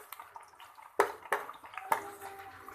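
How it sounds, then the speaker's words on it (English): Brinjal shallow frying in hot oil for the Bengali dish shukto, with quiet sizzling and three or four sharp spattering pops as pieces hit the pan, no talk. "frying this brinjal,"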